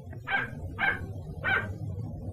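Three evenly spaced barks from dogs in an animated cartoon ring out clearly, one after another, over a low soundtrack.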